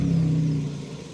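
A car engine catches and runs loudly up close, giving a strong low hum that fades gradually as it settles. No voices are heard.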